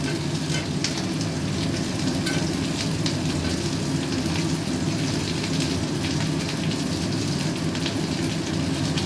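Potatoes fry for bhog khichuri in a hot pan, giving a steady, dense sizzle with crackling pops throughout, close and continuous.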